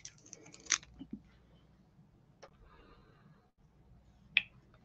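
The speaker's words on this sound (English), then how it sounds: "I'm going to cut about 22 inches of the Softflex wire" Soft Flex beading wire cut with a cutter: quiet, sharp snips, one early and one near the end, with faint small handling clicks between them in a very quiet room.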